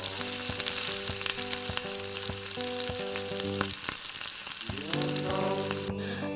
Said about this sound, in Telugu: పచ్చిదనం పోయి పొట్లకాయ ముక్కలు ఓ మాదిరిగా వేగిన తర్వాత సన్నగా తరిగిన ఉల్లిపాయ ముక్కలతో పాటు సరిపడినంత ఉప్పు వేసి మరి కాసేపు వేయించాలి